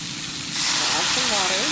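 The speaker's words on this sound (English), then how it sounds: "so we are back, these are sizzling." Italian sausages sizzling in a pan jump suddenly louder partway through, a bright crackling hiss with a brief voice murmuring underneath.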